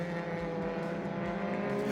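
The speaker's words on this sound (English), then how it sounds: "Coming up the hill, and there are up to 6 cars locked in battle" Pack of up to six race cars climbing a hill in close battle, a dense continuous engine roar with revving and passing swells, loud and steady, no talking.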